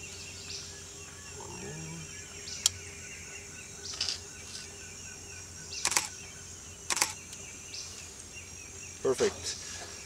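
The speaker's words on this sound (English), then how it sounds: "and I press the shutter." A camera shutter, fired with a cable release during misty-forest landscape shooting in Panama, clicks sharply several times over a steady bed of insects and birds.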